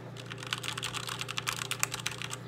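Rapid, uneven clatter of a SteelSeries Apex 7 TKL mechanical keyboard with Cherry MX Red switches being typed, close and clear, with a steady low hum underneath.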